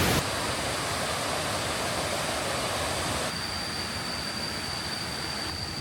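Mae Sa Waterfall in Chiang Mai roars as a dense, steady rush of falling water, loud and close, with no voices, the tone shifting slightly partway through.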